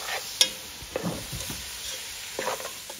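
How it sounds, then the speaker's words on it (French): Tomato and chili being stirred in a cooking pot: quick scraping and clinking stirs over a soft, steady sizzle of frying, with a few sharper knocks of the utensil against the pot. "On va y mélanger vite pour que le tomate cuit bien."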